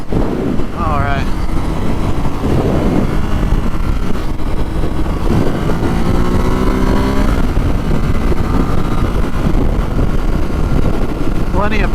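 A 2018 Ducati SuperSport motorcycle accelerating on the highway, its engine note climbing through several rising sweeps under heavy wind rush, recorded from the rider's position.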